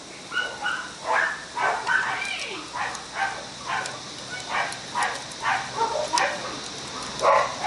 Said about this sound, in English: Couple of dogs barking in the background.